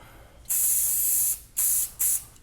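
Hissing aerosol spray from a can: one long burst followed by two short, sharp bursts, close and loud.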